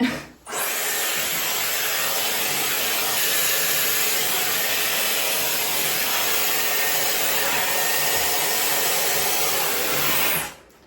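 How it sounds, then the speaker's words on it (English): Hair dryer blowing steadily while hair is dried with a flat brush, a continuous loud whooshing airflow with a whining hum that runs unbroken for about ten seconds, starting and stopping abruptly, with no talk. "So I always start to blow dry my hair with the flat brush"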